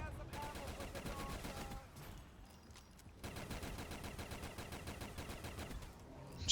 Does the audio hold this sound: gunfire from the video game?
yes